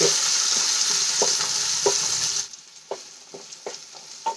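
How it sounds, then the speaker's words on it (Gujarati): Loud sizzle of onion and peas sautéing in a pan that suddenly drops away halfway, leaving quieter scraping and tapping of a spatula stirring. "હવે બધી વસ્તુને આપણે બે મિનિટ માટે સાંતળી લેવાની"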